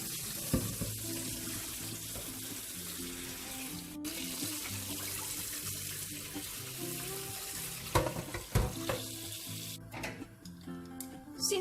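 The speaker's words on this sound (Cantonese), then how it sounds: "跟住就將啲羊腩洗返乾淨。" Lamb belly pieces rinsed under a running kitchen tap: a quiet, continuous stream of water with splashing and handling noises, growing busier and more clattery toward the end.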